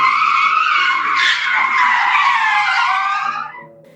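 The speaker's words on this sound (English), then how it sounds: "He slammed on the brakes." Car tires screech in a loud, sustained skid as the brakes are slammed, the squeal holding for about three seconds before fading out, with a low musical drone underneath.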